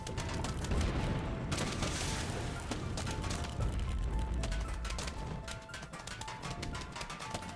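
Cob cannon volleys in the video game Plants vs Zombies: dense, continuous game-battle noise of repeated booms, crashes and mechanical clatter at steady loudness.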